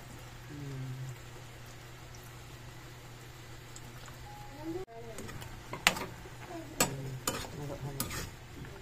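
Squid adobo sizzles in a pan while being stirred, a low steady frying hiss with soft scrapes and a few sharper utensil clicks toward the end, faint and close.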